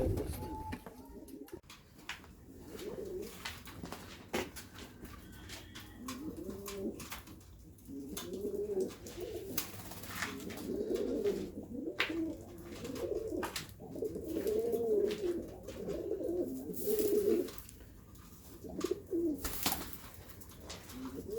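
Domestic pigeons in a keeper's loft coo repeatedly in close, rolling phrases that build through the second half, with a steady low background and no talking.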